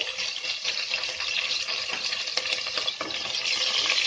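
Ginger-garlic paste sautéing in a pan with green chilies, star anise, cinnamon and cumin for restaurant-style channa masala; a continuous bright sizzle broken by scraping stirs of the spoon.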